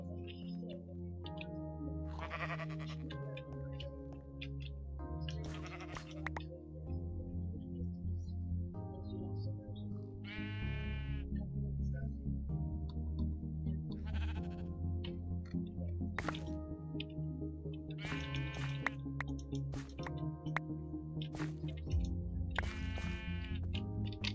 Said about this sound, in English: You stupid googly eye sheep.